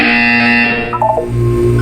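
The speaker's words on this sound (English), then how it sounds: "You will hear a buzzer." A loud, harsh electronic buzzer in the video game Portal 2 drones steadily, then shifts to a lower pitched tone partway through, sounding close and synthetic.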